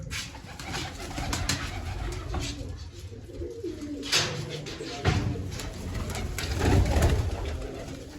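Pigeons coo in low, soft repeated calls amid a faint background hum, several rounds of cooing spread across the recording, fairly close.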